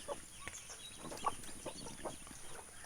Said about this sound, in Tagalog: Yan, magagandang sisiw yan.